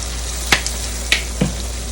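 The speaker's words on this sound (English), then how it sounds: "We're going to saute this." Chicken for a Puerto Rican pollo guisado sautés in a pot with garlic powder and other dry seasonings, giving a steady, soft sizzling hiss broken by a few faint clicks and taps.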